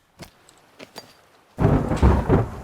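A sudden thunderstorm in the video game The Forest: a few sharp isolated clicks, then a loud crash of thunder with heavy rain bursting in and rumbling on steadily.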